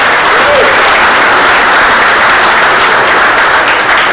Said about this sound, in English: Let's give Wendy a huge round of applause.